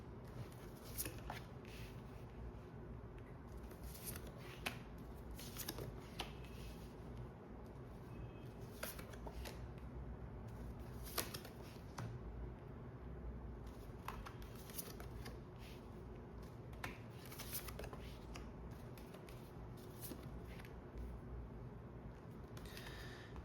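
Tarot cards being shuffled and laid out on a table, soft close riffling and repeated light slaps of cards, fairly quiet and continuous with no talking.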